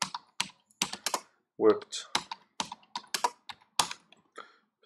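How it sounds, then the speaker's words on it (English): Rapid clattering keystrokes on a computer keyboard come in uneven bursts during a work stream, close and fairly loud, with a person talking in between. "so I'm typing off screen"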